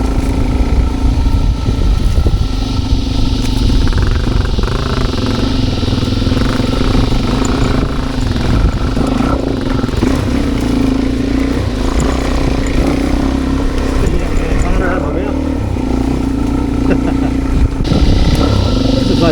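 Suzuki DRZ400 dirt bikes ride a rough, cut-up trail overgrown with lantana, their engines droning steadily and loudly throughout with clattering and revving, while someone talks over the motor noise.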